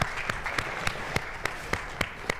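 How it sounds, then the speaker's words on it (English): Quiet, steady rhythm of sharp claps roughly every third of a second from a small presentation audience, faint and without talk. "give yourselves a round of applause"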